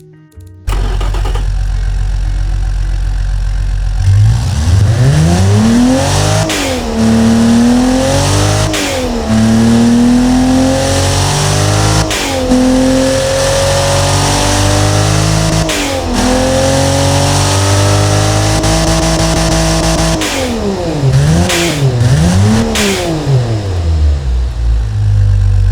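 A Toyota 3FE six-cylinder engine in the Automation game is started, then revved repeatedly, each rise in pitch dropping back before the next, loud and close with a sporty tone and no talk.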